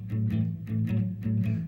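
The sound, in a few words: bass part played on blues guitar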